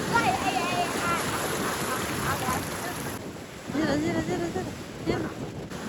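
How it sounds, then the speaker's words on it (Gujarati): Strong wind at sea during crab fishing buffets the microphone in a rough, rushing roar over the water, with people talking through it. "પવન બહુ છે"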